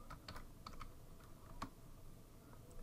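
Quiet typing on a computer keyboard, a few soft, scattered keystrokes over a low background hiss, fairly distant and faint.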